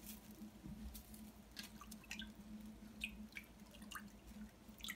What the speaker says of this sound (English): We're going to paddle the spatula in the water to show how webbed feet work.